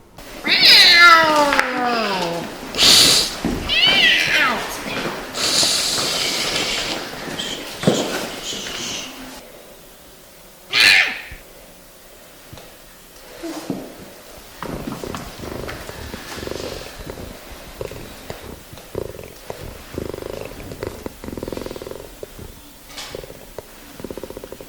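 A cat meows repeatedly and loudly up close, with some caterwauling cries, then settles into quieter purring and soft movement for the rest of the stretch.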